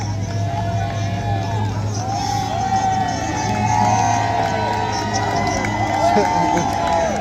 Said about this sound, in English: The whole crowd is cheering that they went over there.